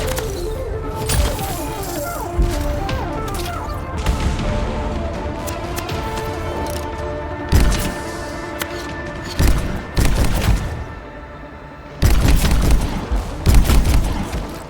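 Weapon fire in the Anthem video game, rapid bursts of loud gunshots and heavy thumps in clustered volleys, with booming impacts and crashes over a dense game soundscape.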